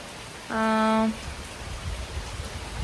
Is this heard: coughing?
no